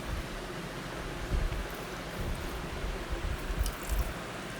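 Coconut milk squeezed through a thick cloth towel, a dense wet squishing and trickling hiss with soft pulses of pressure, close and steady throughout.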